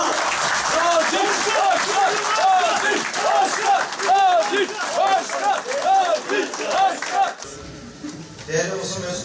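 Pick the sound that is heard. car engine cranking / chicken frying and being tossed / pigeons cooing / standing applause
standing applause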